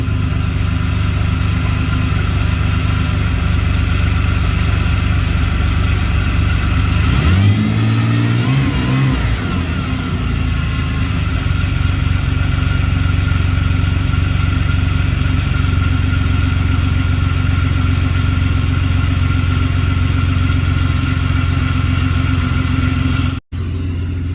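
Old car engine running steadily at idle despite an intermittent stalling fault, loud and continuous with a brief rise and wobble in pitch partway through, then cutting off abruptly near the end.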